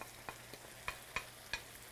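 Garlic fries with game meat and soy sauce in a pan, giving a faint, steady sizzle broken by a few sharp clicks and scrapes as the food is stirred.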